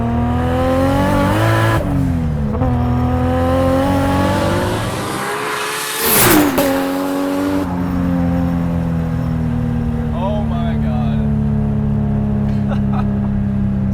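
A 680 whp Nissan S14 with a 2JZ engine accelerates hard. Its loud, harmonically rich exhaust rises, breaks at quick gear shifts and climbs again, with a sharp burst partway through, heard up close from inside the car.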